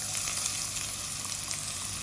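Onions frying over a low flame for chana dal, a steady, even crackling sizzle heard close and fairly quiet, with no talk.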